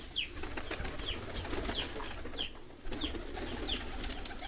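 Teddy pigeons in a loft housing thousands of birds, with soft repeated coos and bursts of wing flapping at close range against a low background hum.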